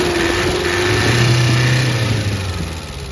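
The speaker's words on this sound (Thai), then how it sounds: "เดี๋ยวเร่งเครื่องดูนะ" A 1994 Nissan Big-M cab pickup engine running steadily with a low, continuous drone and a slight rise in pitch partway through, loud and close with no talking.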